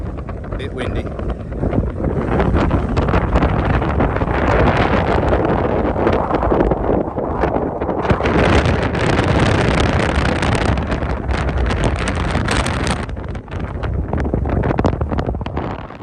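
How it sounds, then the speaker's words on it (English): Strong wind buffeting the microphone on an exposed Peak District hilltop near a crash site, loud continuous roaring gusts that rise and fall throughout. "Bit windy."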